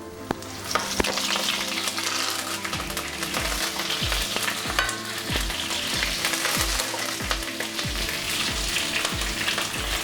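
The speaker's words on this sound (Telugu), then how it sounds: "ముందుగా వెల్లుల్లిపాయలు, జీలకర్ర, ఆవాలు, కరివేపాకు, ఎండుమిరపకాయలు వేసేసుకుందాం" Garlic, cumin, mustard seeds, curry leaves and dried red chillies hit hot oil for an Andhra spinach dal tempering, giving a dense, continuous close-up sizzle with crackles and rapid popping spatters throughout, loud and unbroken by voices.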